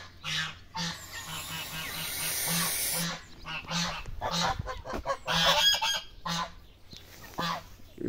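Frizzle geese honk repeatedly in a mixed flock with Saxony ducks, turkey and hens on a farm, close and fairly loud, overlapping calls through the whole stretch.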